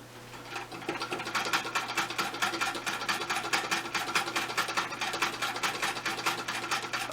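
An old Singer sewing machine stitches through heavy canvas, running in a steady fast mechanical rattle of needle strokes that continues without pause for several seconds, loud and close with no voices.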